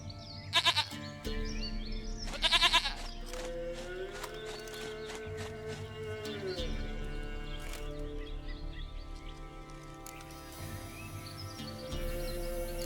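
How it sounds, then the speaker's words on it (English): Goat bleating in The Witcher 3 video game, a few sharp nasal bleats early on over steady sustained tonal game music, with harmonic layers and occasional louder accents later. "Goat of mine, dearest,"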